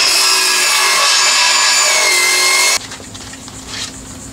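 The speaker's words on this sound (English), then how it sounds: "A circular saw makes the straight cut." A circular saw cuts straight through wood, its loud high whine running steadily for nearly three seconds before stopping abruptly, leaving the quieter rumble of the motor winding down.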